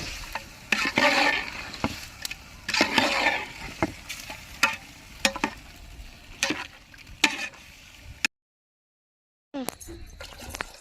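Oil sizzles and crackles steadily as mutton leg meat hits a hot pot for biryani, with sharp clatters and stirring knocks, then a brief silence and more clattering.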